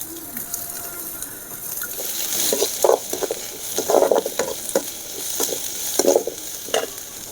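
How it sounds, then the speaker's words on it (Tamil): Onion, ginger and curry leaves are sautéed in a pan, with a soft sizzle under repeated scraping stir strokes that come in uneven bursts, close and fairly loud, with no talking. "அடுத்தது வெங்காயம் அடுத்தது இஞ்சி கருவேப்பிலை எல்லாத்தையும் நல்லா வதக்கிக்கணும்"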